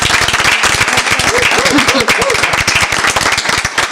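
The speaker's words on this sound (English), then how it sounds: "I think we should do that" A board of education meeting room fills with close, loud clapping from a small group, sharp individual claps clearly separable, while a voice speaks briefly beneath it.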